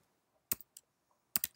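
Keystrokes on a computer keyboard while writing CSS code: a pair of quick clicks, a single tap, then another close pair, crisp and near with quiet gaps between.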